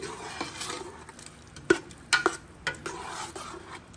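Rice with pork and three kinds of greens simmering in a pot after water is added, giving a soft steady sizzle with stirring scrapes and a few sharp metallic clinks of a utensil against the pot.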